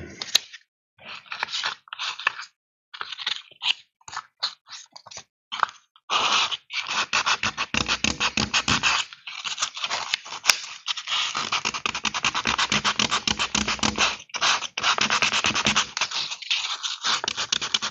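A guitar pickguard's binding is rubbed with acetone, giving repeated short scratchy strokes at first, then longer runs of close, rapid scrubbing with brief pauses between.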